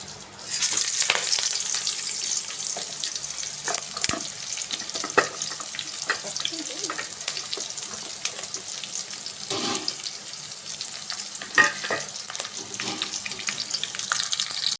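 Spices crackle and sizzle in hot oil for tempering, with onion, garlic, curry leaves, seasoning seeds and dried red chillies; a steady bright hiss with scattered pops and the occasional stir, close up.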